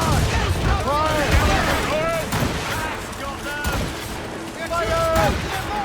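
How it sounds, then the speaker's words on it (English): Ship cannons roar in a naval battle in Assassin's Creed Rogue, loud overlapping booms rolling one after another amid shouted crew voices and battle din. "Cannon ready! Fire!"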